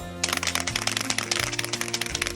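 A can is shaken rapidly, producing a steady rattling clatter of quick repeated knocks, close up, over a low background hum.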